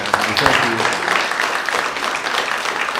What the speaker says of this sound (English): how about we give Ivan and Luke a big round of applause